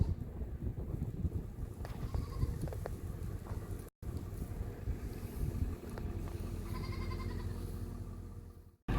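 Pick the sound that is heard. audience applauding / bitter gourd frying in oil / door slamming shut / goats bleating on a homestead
goats bleating on a homestead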